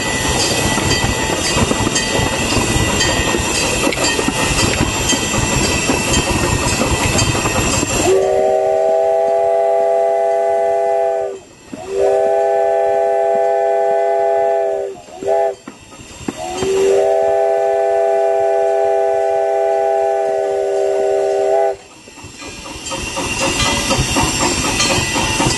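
Loud roaring steam hisses from a steam locomotive on the Billy Jones Wildcat Railroad, then cuts to a sequence of whistle blasts: two long, one quick chirp, then a long final blast before the hissing returns.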